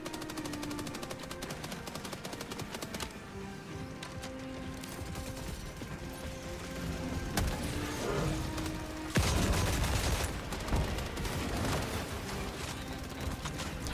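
Rapid Gatling Sentry gunfire in a video game, dense continuous bursts of automatic shots that grow heavier and louder partway through, with no talk over them.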